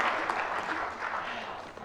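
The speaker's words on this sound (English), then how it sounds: "Round of applause for Mr. Ray." An audience at a conference plenary session on waste claps in a brief burst of applause, dense and fairly loud, tapering slightly as it ends.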